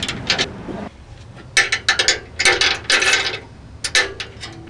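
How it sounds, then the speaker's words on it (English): A socket wrench ratchets in quick bursts of sharp clicks while snugging a bull bar bolt on a Ford F-150, loud and close with short pauses between strokes. "with your socket wrench. And make sure that baby's nice and snug"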